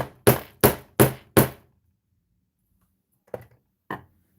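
Four hard slams in quick succession on a craft table, loud and close, followed after a pause by two fainter knocks; no talking.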